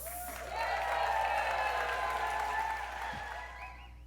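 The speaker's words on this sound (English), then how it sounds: "Let's give her a big round of applause" An audience applauds a woman guest being welcomed onto the stage at a mentorship-industry talk; steady, dense clapping swells quickly and holds loud for several seconds before tapering off.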